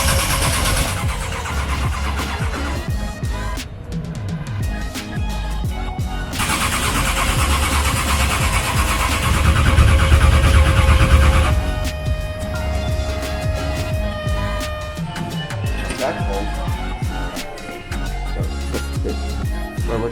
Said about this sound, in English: it's so cold. It's like the low 40s today, and my BRZ is not starting.